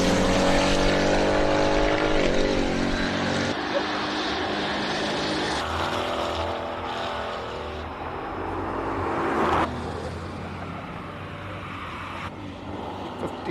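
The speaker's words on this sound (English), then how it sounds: "On track, Anton Pommersheim and Paige Lindenberg, both in Mustangs" Ford Mustang race cars on a hillclimb track during King of the Hill qualifying: a loud engine roar with climbing revs at first, then a fading drone and another surge as the car passes.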